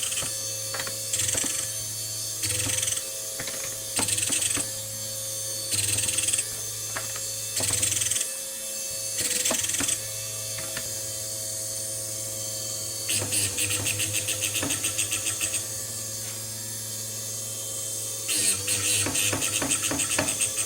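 A drill bit point grinding machine whirs steadily while bursts of rattling, scraping contact come and go as the bit hits the stop, close and moderately loud.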